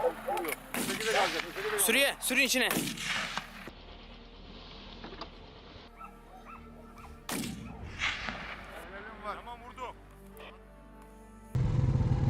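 Several sharp, loud gunshots ring out outdoors in quick succession during a wild boar hunt, with thumping echoes and rustling between them.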